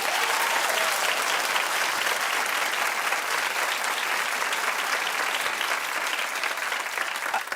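A studio audience breaks into loud, sustained clapping that fills the room evenly for several seconds without pause.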